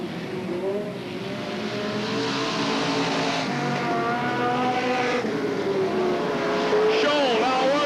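Race cars roar around Hales Corners Speedway in Wisconsin in 1985, engines rising and falling as they battle lap after lap, with a track announcer talking over the loud, continuous racing.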